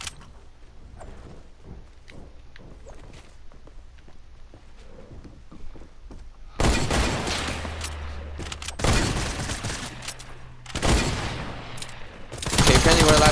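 SMG fire in a first-person shooter game comes in loud, dense bursts of rapid shots that start suddenly midway and return in several bursts, following a quieter stretch of faint clicks and footsteps.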